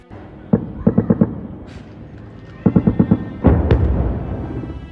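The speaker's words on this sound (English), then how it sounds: "In the north, sporadic gunfire signals more violence there." Sporadic gunfire in a war zone in northern Gaza, around Jabalia: two quick clusters of four or five sharp cracks, then a heavier rolling blast that decays slowly, fairly distant with no talk.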